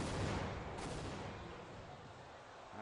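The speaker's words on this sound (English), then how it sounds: "double grenades going out there" Grenade blasts in a Counter-Strike match at a competitive tournament, a dense rumbling burst of explosions and gunfire-like crackle that stays loud and continuous throughout, gradually easing off toward the end.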